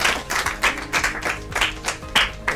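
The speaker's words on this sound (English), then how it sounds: "All right, clap for her." Audience at a children's day quiz show clapping for a contestant, a short burst of irregular hand claps from a small group, fairly close and lively.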